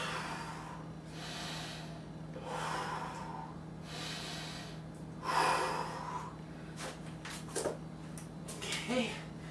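A person breathes slowly while holding an exercise pose with hips raised and spine straight. Several close, steady inhales and exhales repeat over a low constant hum, with a few sharper breaths toward the end.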